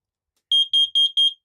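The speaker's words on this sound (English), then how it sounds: "And the carbon monoxide alarm in the boatsman's cabin." Carbon monoxide alarm in a narrowboat's boatman's cabin sounding its test: four evenly spaced, shrill electronic beeps in quick succession, loud and close, with no talking.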